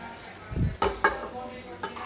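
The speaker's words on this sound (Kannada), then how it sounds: "ರೈಸ್ ಮಿಕ್ಸ್ ಮಾಡಿಕೊಂಡು ನೀಟಾಗಿ ಇದನ್ನ ಕೈ ಆಡಿಸ್ಕೋಬೇಕು" Capsicum rice mixed with tempered seasoning is stirred in a pan, giving a few short, close scraping strokes over a faint sizzle.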